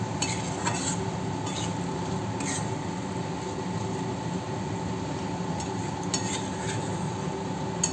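Baby corn and potatoes fry with spices in a pan, giving a continuous low sizzle and scattered light scrapes and clinks of a spoon stirring throughout, close and unvoiced.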